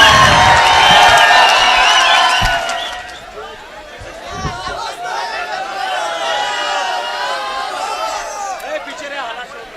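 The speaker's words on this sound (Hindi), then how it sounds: "सुफियान प्रतापगढ़ी के लिए एक बार जोरदार तालियां बजाइए, जोरदार तालियां" Crowd cheering and whoops for Urdu poet Sufiyan Pratapgarhi at a mushaira in Bakhtiyarpur, Bihar, loud and dense at first, then dropping away into a lighter, scattered murmur of shouts and chatter.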